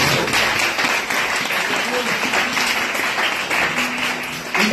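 A church congregation claps continuously and fairly loudly during a sermon, with voices and brief vocal tones rising over the steady applause.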